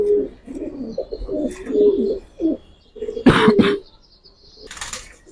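Pigeons of Giribaz and coloured breeds in a collection cooing repeatedly nearby, low rolling coos with a few chirps and a brief wing flutter, no speech.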